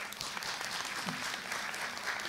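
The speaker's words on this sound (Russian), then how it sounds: "Поаплодируйте." A student audience at a university event claps in a steady, fairly soft patter that fills the room, with no voices breaking through.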